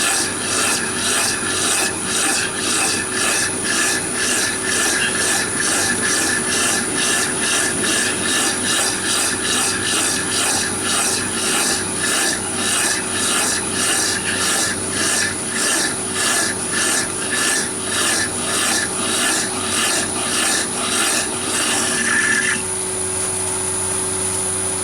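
A hand file works a workpiece turning on a metal lathe to smooth a stepped angle, with loud, evenly spaced rasping strokes repeating for about twenty seconds before stopping, over the machine's continuous hum.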